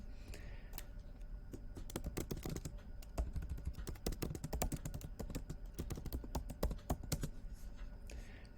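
Typing a reply on a computer keyboard, rapid quiet key clicks in uneven bursts, close and continuous for several seconds with no talking.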